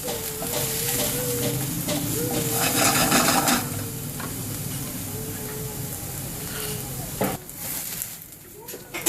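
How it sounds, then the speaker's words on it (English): Onions and peppers sweat in a hot pan, a steady close sizzle with occasional stirring and scraping and a faint tonal whine in the background, fading near the end. "the onions and the peppers, start to really sweat a lot"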